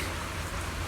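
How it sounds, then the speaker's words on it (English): Steady rain pours down in an outdoor scene from the video game Zenless Zone Zero, a dense continuous hiss of falling water with no other sounds. "But don't stand out here in the rain"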